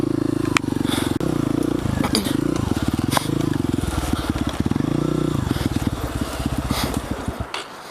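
A motorcycle engine idles and revs roughly with a sputtering, uneven pulse on a wooded trail, chugging through several surges before it falters and dies out near the end.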